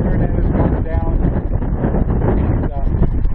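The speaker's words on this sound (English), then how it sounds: "I got a feeling it's getting really windy" Strong wind from an Arizona monsoon storm buffets the microphone in loud, continuous gusts, with a voice speaking faintly beneath the roar.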